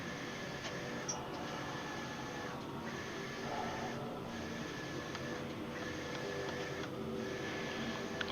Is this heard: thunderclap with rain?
no